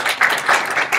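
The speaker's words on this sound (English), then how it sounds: "round of applause for those students" A short burst of applause from a group at a university student government meeting, several people clapping together briefly.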